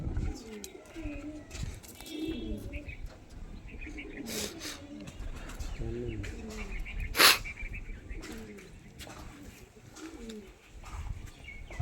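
Pigeons coo in low, rolling, repeated calls throughout, with a few sharp bursts of wing flapping or scuffling and brief chirps among the birds.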